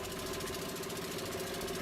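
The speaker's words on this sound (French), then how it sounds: "La navigation se fait avec une grande barque motorisée en teck." A large motorized teak boat on the Chindwin river in Myanmar runs its engine with a steady, close, knocking drone and a constant tonal hum throughout, with no voices.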